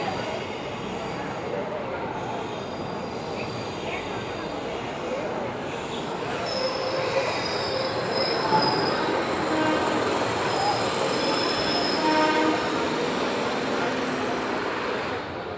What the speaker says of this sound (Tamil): ஸோ நம்ம ட்ரெயின் பார்த்தீங்கன்னா இப்போ தான் டிபார்ட் ஆகிருக்கு